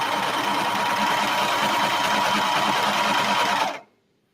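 A sewing machine stitches cotton fabric in one steady, loud, continuous run of fast mechanical whirring and needle chatter, stopping abruptly near the end with no talking.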